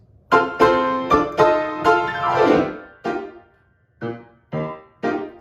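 Piano notes from Kingdom Hearts struck one after another, with a quick sweeping glissando run starting from F in the middle, then a few more separate notes.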